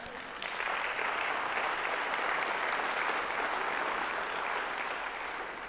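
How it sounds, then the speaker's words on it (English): Steady, sustained clapping from a conference crowd, fairly even in intensity throughout, with no talking over it. "give a clap"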